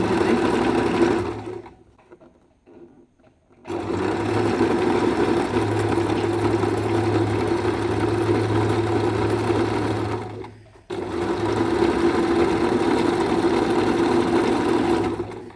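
A Singer sewing machine runs an overlock-style stitch in two long, steady mechanical bursts, separated by short pauses.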